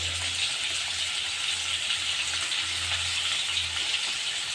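Oil frying in a pan while cooking a spicy Telugu egg curry, a continuous dense sizzle that stays steady and close, with a faint low hum underneath and no talking.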